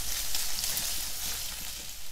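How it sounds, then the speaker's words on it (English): Bacon sizzling as its fat renders in a pan, a steady hissing crackle that holds at moderate loudness throughout, with no voice over it. "you need to render the fat from the bacon"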